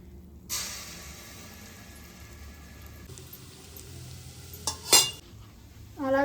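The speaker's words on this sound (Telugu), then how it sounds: "తీసేసుకున్న తర్వాత అదే ఆయిల్లో మనం ఫ్రెష్గా నూరుకున్న అల్లం వెల్లుల్లి పేస్ట్ వేసుకుందాం." Freshly ground ginger garlic paste drops into hot oil in a pan and sizzles steadily from about half a second in, with a brief utensil clatter near the end.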